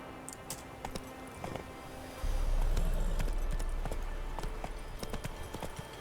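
Hooves of Roach, the horse in The Witcher 3, clip-clopping in a light, even rhythm, with a low rumble swelling in partway through.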